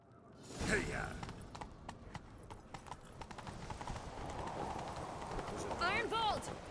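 A horse gallops in The Witcher 3, rapid rhythmic hoofbeats pounding close over a rushing game soundscape, with a brief whinny-like cry near the end and voices calling out over the action.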